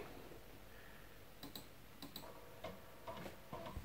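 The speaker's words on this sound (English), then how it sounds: "Got the floppy drive working." An Acorn A3000 computer's floppy drive running after repair, giving faint, irregular ticking and clicking bursts over a low hiss, close up.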